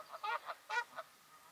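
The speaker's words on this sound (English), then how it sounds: "geese." Geese honking outdoors in the morning, a flock heard from some distance through a window, several short nasal honks in quick irregular bursts, then quiet.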